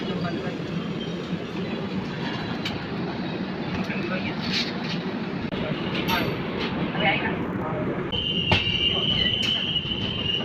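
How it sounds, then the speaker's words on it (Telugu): The Bhavnagar–Kakinada Port superfast express pulls out of Guntur station, a steady broadband rumble and rattle of the moving carriages continuing throughout, with faint voices and a brief high tone near the end. "5 మినిట్స్ స్టాప్ తర్వాత మన ట్రైన్ గుంటూరు నుంచి స్టార్ట్ అయింది."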